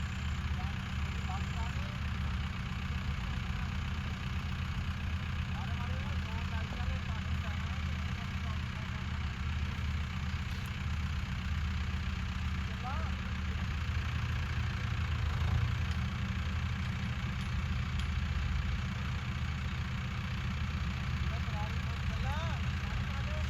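A new Arjun 605 tractor used for wheat sowing runs at a steady diesel idle for a long stretch, a constant low throb close by, with faint talking mixed in.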